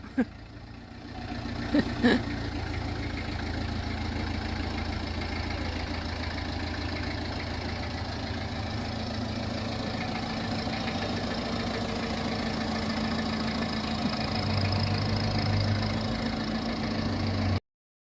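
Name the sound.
Peugeot engine idling in a Homark Criterian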